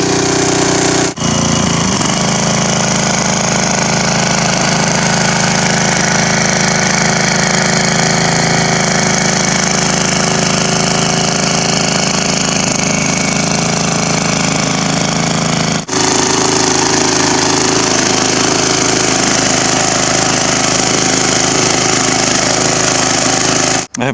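A garden tiller's small engine runs steadily at high revs for the whole stretch, loud and close, with a harsh buzzing drone and a brief dip partway through.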